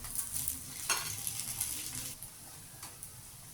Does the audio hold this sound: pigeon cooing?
no